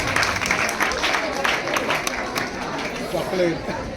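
Loud applause from an audience at a poetry award ceremony, dense and continuous clapping that holds steady for the whole stretch with a faint murmur of crowd chatter underneath.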